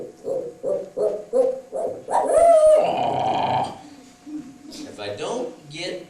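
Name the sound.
owl hoot call imitated by a turkey hunter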